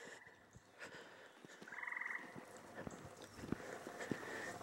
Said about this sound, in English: We have happy frogs.